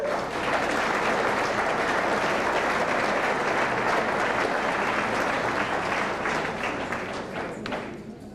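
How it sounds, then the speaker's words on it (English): Sustained applause from a banquet audience at a 1992 motorsports series awards dinner, dense clapping that holds steady for several seconds before tapering off slightly at the end. "I'd like you to give yourself a big round of applause"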